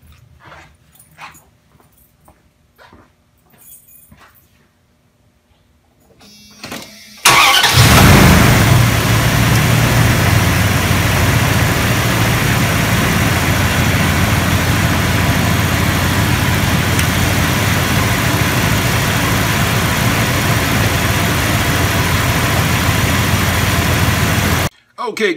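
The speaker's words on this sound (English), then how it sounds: "As you saw, it jump started my V8 Dodge Ram with no trouble" A V8 Dodge Ram engine is cranked over after a jump start, then fires and settles into a loud, steady idle that runs close by for nearly twenty seconds. Before it starts there are quiet handling noises and a dog whimpering.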